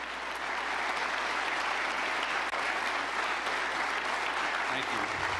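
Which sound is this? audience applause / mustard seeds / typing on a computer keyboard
audience applause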